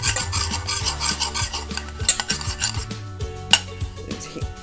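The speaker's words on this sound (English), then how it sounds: "Add 1 teaspoon of flour. You can use cornstarch too. And mix well." Flour being mixed into a white sauce of melted butter in a pan, with repeated scraping and rasping strokes of a utensil against the pan in a steady rhythm, close and fairly loud, with no talking.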